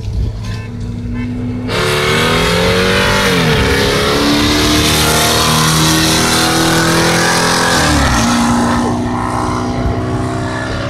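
A Ford SHO and a cammed SVT car accelerate hard in a road race, engines roaring loudly as the pitch climbs through gear changes with brief dips between shifts, close and sustained.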